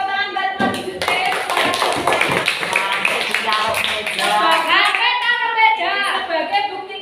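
A class of students claps together for Mas Yusuf, loud rhythmic hand claps near by, with children's voices calling out over and between the claps.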